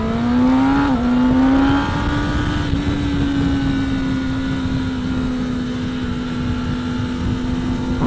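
Kawasaki Ninja ZX10R motorcycle fitted with Helibars, ridden on the road with a steady engine drone that holds a nearly constant pitch after an early shift, heard close up under broad wind rush.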